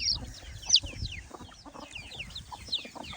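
Chickens cluck and squawk in short, sharp bursts, a few calls close by over faint background noise.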